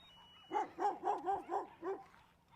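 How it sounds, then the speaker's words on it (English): Several dogs bark close by in a quick run of six rhythmic barks, moderately loud, with a faint steady electronic tone in the background. "I've got dogs going bonkers all around me."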